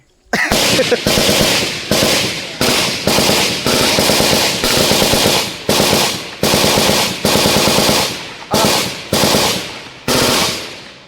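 Loud .50 caliber machine gun firing at a range in about ten short bursts, each a rapid string of deep, booming shots, separated by brief pauses.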